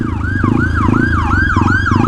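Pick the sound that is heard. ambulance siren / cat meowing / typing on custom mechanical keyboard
ambulance siren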